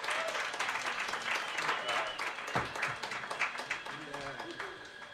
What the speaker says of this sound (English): Another round of applause for Sherry today.